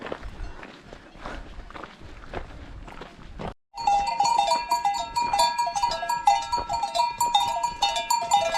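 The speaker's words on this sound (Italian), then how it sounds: "Rincontriamo le mucche." Cowbells clanking steadily on grazing cows in an alpine pasture near the Passo Valles trail, a dense ringing chorus close by that starts after footsteps crunching along the path.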